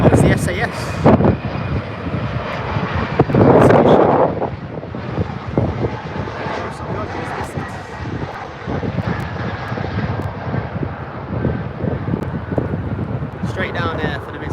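Airliner at Birmingham airport, a continuous loud engine roar with wind buffeting the microphone throughout, as people talk over it.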